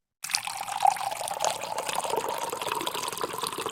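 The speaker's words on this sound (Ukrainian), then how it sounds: "Так, це звук води, що лється." Water pours steadily into a container, a continuous close splashing trickle that starts abruptly and keeps an even level throughout.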